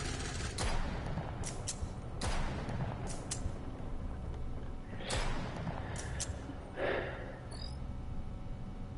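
Sniper rifle and SMG fire in the video game Deadzone Rogue, heard as scattered sharp shots and short bursts at irregular intervals over a steady backdrop of game noise.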